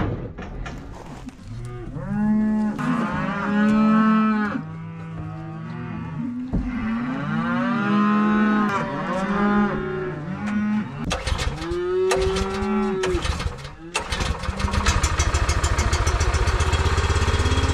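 Cattle on a ranch bellow and moo repeatedly in long, loud calls that overlap one another, with a low engine rumble in the background and no talking.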